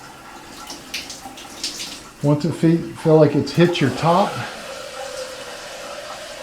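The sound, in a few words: shower water running from Delta shower head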